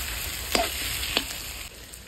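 Meat, being cooked down with radish for a curry, sizzles steadily in a hot pan, with two sharp scraping clicks of a stirring spoon against the metal.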